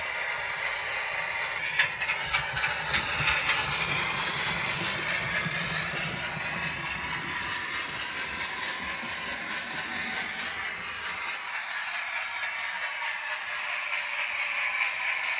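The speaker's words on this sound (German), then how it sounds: "Entsprechend dem Befehl Stellen und Fahren beschleunigt das Steuerungsprogramm den Zug auf dessen bauartbedingte Höchstgeschwindigkeit von 70 Stundenkilometer." A model railroad train accelerates on a layout toward its top scale speed, a steady mechanical running hiss with faint clicking, heard alone without talk.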